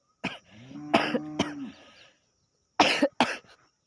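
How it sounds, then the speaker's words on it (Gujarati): A person coughs repeatedly in short bursts, a few harsh coughs with a throaty rasp between them, a pause, then two more coughs. "ઉધરસ હો ગઈ है"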